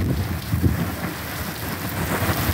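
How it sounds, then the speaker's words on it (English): Heavy rain pours steadily during a severe late-night thunderstorm, with low thunder rumbling underneath, loud and continuous with no voices. "This storm going crazy."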